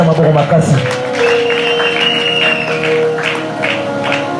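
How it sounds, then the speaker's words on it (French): A church congregation claps and cheers after a French sermon on faith, a brief burst of applause that gives way to a sustained sung or shouted tone with rhythmic clapping continuing underneath. "Acclamons la parole de Dieu."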